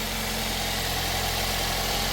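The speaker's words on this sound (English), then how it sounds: "so the engine is running right now" A 2009 Toyota Corolla's 1.4-litre 1NZ-FE four-cylinder idles steadily at close range, a continuous low mechanical hum with faint vibration and no talking.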